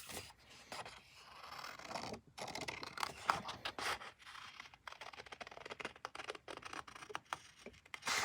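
Scissors snip and rustle through paper as flowers are cut out for a paper craft project, a quiet, close series of irregular cuts and paper scrapes with no talking.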